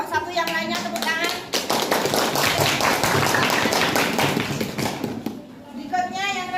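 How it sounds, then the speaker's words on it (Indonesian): Classroom applause for a student group after their presentation, a dense burst of many hands clapping with voices over it, fading out as speech returns. "tepuk tangan."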